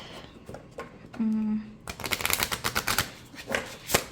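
A new tarot deck of thick, stiff cardstock is shuffled up close, giving a dense run of sharp riffling snaps and clicks, with a single voice speaking briefly before the shuffle.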